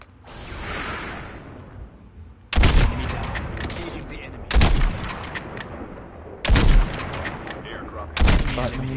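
Call of Duty Mobile gunfire aimed at the player: four loud bursts of rapid automatic shooting, each lasting well over a second, separated by short pauses, close and harsh, with a faint whoosh beforehand.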